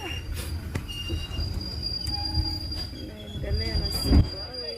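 Train running along rails gives rhythmic clunks and rattles under high, wavering wheel squeals, with a louder screech and thump near the end, heard from inside the moving carriage.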